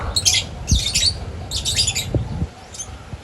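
Racing pigeons at a home loft during race clocking give a series of about four short, raspy squawking bursts over a low, steady background rumble, fairly close and alone.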